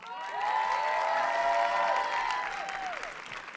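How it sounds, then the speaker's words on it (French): An audience at a film festival closing ceremony in Saint-Jean-de-Luz applauds steadily, a dense wash of clapping that swells and fades slightly over a few seconds, with a faint whistle-like tone above. "je vous ai pas entendu applaudir hyper fort Marina et Fred"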